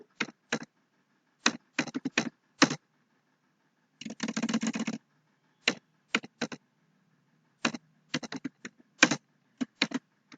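Keystrokes on a computer keyboard typing an AI prompt, arriving in short irregular bursts with one longer rapid run in the middle, close and clear against silence.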